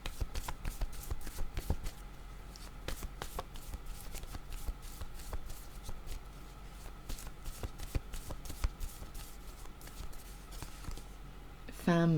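Tarot cards shuffled and drawn from a deck, soft papery riffles and flicks in repeated bursts, close and fairly quiet, with a louder handling noise at the very end.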